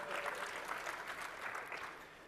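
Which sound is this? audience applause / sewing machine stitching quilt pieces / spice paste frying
audience applause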